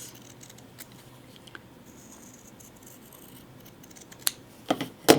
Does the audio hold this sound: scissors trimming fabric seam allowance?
yes